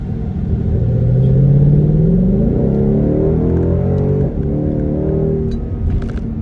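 Deep exhaust rumble of a 2020 Ford Mustang GT convertible V8 without active exhaust as the engine revs up and settles, loud and close, with no talking.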